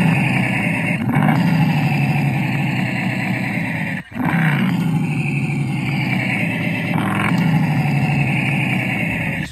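Simulated engine sound from a Hyper Gogo kids' electric motorbike, a loud, steady motor drone with revving swells, briefly cutting out around the middle before resuming, close and continuous with no talking.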